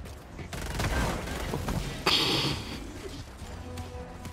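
Gunfire in Helldivers 2, a dense, continuous rattle of shots and impacts with a sharp crash midway, loud and close throughout without voices.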